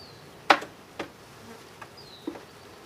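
Honey bees buzz around an opened hive during routine maintenance, with a few short loud passes near the listener, one sharp close buzz, and fainter buzzing between them, no talking.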